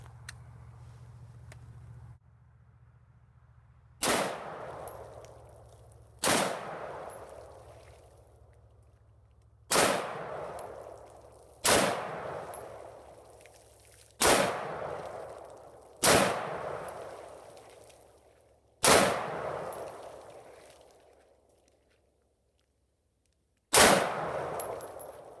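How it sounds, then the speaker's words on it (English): A rifle fitted with a LAW Tactical Gen 3 folding stock adapter fires eight sharp, loud shots spaced a few seconds apart, each crack followed by a short ringing decay, until the magazine is emptied. "let's go ahead and empty this magazine out"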